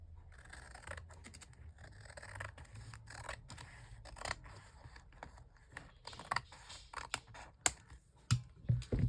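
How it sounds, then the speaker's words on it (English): Scissors snip paper for an envelope journal in a run of quick, close, crisp cuts and rustles that grow louder toward the end. "now we can take and just snip just a little bit off of here"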